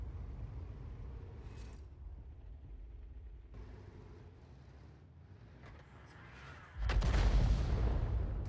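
An artillery shell fired from the GW E 100 self-propelled gun in World of Tanks: a quiet rumbling stretch with faint clicks, then a sudden loud, deep boom near the end that rolls on as a heavy rumble.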